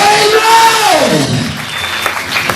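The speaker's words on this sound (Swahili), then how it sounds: "Pigie Yesu makofi." A church congregation claps during a healing service, a burst of crowd applause mixed with a preacher's raised voice over it, loud and close for a few seconds.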